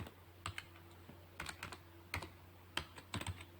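Typing on a computer keyboard while working in an Excel spreadsheet: scattered clusters of soft, close key clicks with short pauses between bursts, quiet and without talking.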